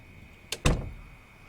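A door in Project Zomboid Build 41 gives a quick double clunk, a light knock followed by a heavier thump that decays over a quiet background.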